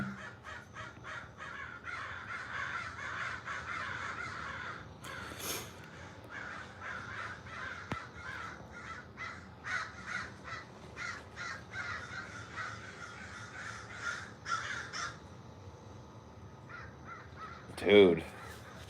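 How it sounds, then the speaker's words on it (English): A murder of crows caws repeatedly in a steady run of harsh calls, moderately close, with people talking intermittently over the calls and one louder burst near the end. "A murder of crows could, though."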